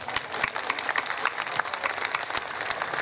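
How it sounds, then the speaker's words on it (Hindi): Enthusiastic clapping from the audience at a Hindi poetry recital (kavi sammelan), a steady, moderately distant wash of many hands with sharper individual claps, no speech over it. "मेरे स्वागत में दोबारा जोरदार तालियां बजाएं"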